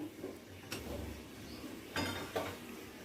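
Bengali chana dal with ghee and a pinch of garam masala stirred in a pot, giving a few quiet metallic clinks and scrapes of a spoon spread over a soft, steady background.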